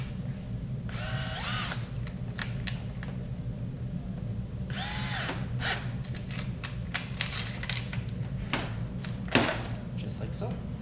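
A T25 driver tightens the small clamp bolt of a blade kit on an Echo SRM string trimmer. Short whirring bursts of a power driver come and go over a steady low background hum, with someone speaking in between.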